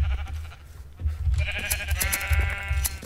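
Sheep bleating in the Minecraft video game, several short bleats that grow louder after a quiet start and repeat over a low background hum, with no talking.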